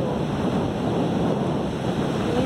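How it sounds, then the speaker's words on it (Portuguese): Sea waves wash steadily onto a clean beach shore, a continuous broad rushing surf with some wind noise on the microphone, no voices. "Escute o mar, gente, escute."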